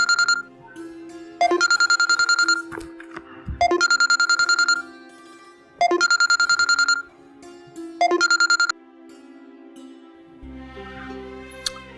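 Telephone ringback tone on an outgoing call, repeating in five regular bursts of bright double-pulsed tones with short gaps, fairly loud and clear, followed by a brief low hum at the end.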